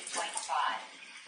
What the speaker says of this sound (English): if I turn on the faucet